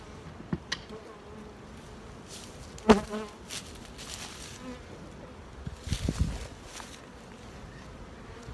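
Bees hum faintly around tipped-over beehives in an outdoor apiary, a low steady buzz under scattered knocks, handling noises and a few louder clunks.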